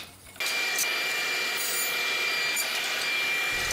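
A hand plane is pushed across the face of an old walnut board, giving a continuous close shearing rasp that starts abruptly and holds steady for several seconds.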